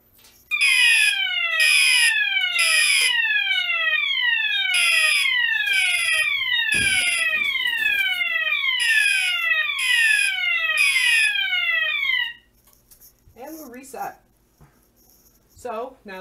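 An i3 smoke detector sounds during a button test: loud, piercing, repeated sweeping chirps in an even rhythm for about twelve seconds, then stops and leaves only faint background noise.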